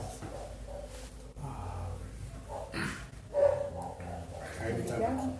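Dogs bark faintly in the distance, with soft, scattered yips and woofs under women's conversation that stays in the foreground.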